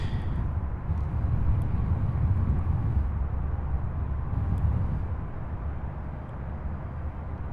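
Southwest airliner departing SDF airport, a low, distant jet rumble that swells and then slowly eases off.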